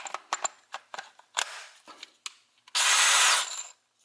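A DeWALT DCD708 Atomic cordless drill runs on gear 2 with a 2 amp battery, giving one loud, steady burst of drilling of just under a second after a string of short knocks and clicks.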